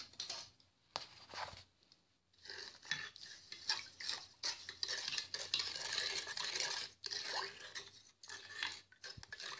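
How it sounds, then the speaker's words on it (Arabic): Steady scraping and stirring in a pot, a utensil moving through a thick mixture of milk, sugar and starch with occasional clinks against the sides, fairly close. "نحرك الكل جيدا"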